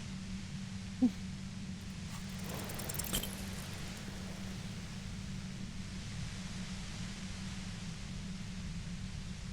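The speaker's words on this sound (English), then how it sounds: "The violet-white noise becomes even more overwhelming closer to the compressor." Compressor noise in Disco Elysium: a steady, droning low hum under a wash of broadband hiss, with a brief knock near the start and faint higher tones midway.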